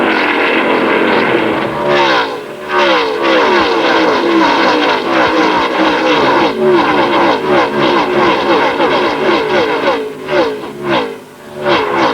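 Race cars roaring off at the start of a 2005 ARCA Series race at Pocono, a loud dense wall of engines rising and falling as the field accelerates, with multiple revving pitches layered over one another.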